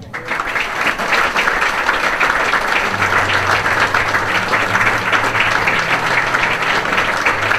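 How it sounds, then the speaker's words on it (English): A large crowd at a county football association awards ceremony applauds a referee's special award. The clapping is loud, dense and sustained and fills the whole stretch without a break, with a low murmur of voices underneath. "a big cheer and a round of applause"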